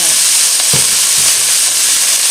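A tuna stir-fry sizzles loudly in a hot pan as light soy sauce goes in, a steady bright hiss with a few soft knocks of stirring underneath.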